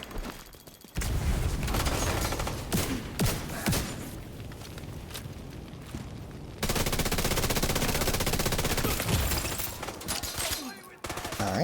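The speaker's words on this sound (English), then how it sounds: "I need you to stop shooting at me." Heavy enemy gunfire in The Division 2 video game, sustained automatic bursts and shots that stay loud and dense almost throughout, with a brief lull before a renewed barrage.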